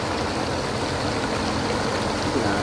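Floodwater rushes over an old road that has turned into a river, making a steady, even roar of flowing water that stays constant and fairly close throughout.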